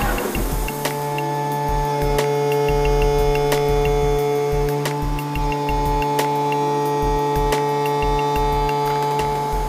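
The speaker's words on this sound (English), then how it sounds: "This is where we do our first operation of cutting on this part." A MultiCam 7000 CNC router, a 5 by 24 foot machine, cuts a part with a steady loud tonal whine, low pulsing hum and intermittent ticking clicks throughout, no talking.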